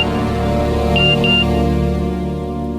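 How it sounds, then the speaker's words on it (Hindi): A phone gives two short, clear electronic notification beeps over a steady humming background. "मैसेज है"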